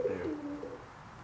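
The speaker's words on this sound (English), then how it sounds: "There's a pigeon." A pigeon coos once, a soft low throaty warble that slides downward, fairly close with faint outdoor background and no talking.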